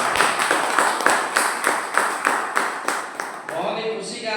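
Sustained applause from an audience greeting a Friday training session, steady dense clapping with regular swells that fades out near the end as a voice begins.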